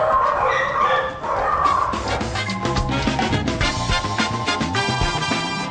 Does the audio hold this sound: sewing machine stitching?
no